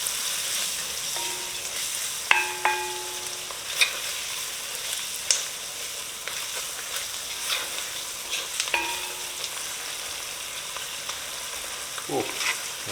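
Spicy Durban curry paste sizzles steadily in a pot while a utensil stirs through it, with occasional scrapes and clinks standing out against the constant frying hiss.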